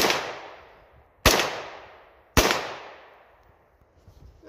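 Three sharp, loud gunshots from an AR-platform rifle firing .223 green-tip rounds outdoors, evenly spaced about a second apart, each cracking and then fading into a long echoing tail.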